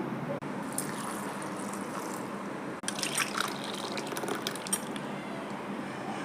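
Water trickles and splashes steadily into a container holding white pumpkin pieces with salt, cumin, pepper and ginger, set to be ground for juice. The pour is close and continuous, with no voice.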